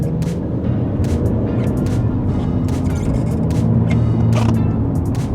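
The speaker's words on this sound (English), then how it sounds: "So what do you think is causing my engine to drone, guys?" BMW E90 320d diesel engine droning under acceleration, a steady loud low hum with a constant cabin rumble that holds throughout without pause.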